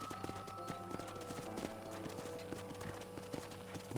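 Steady horse hooves clop in a quick, even rhythm in the video game Red Dead Redemption, fairly close, with a low background hum and no voices.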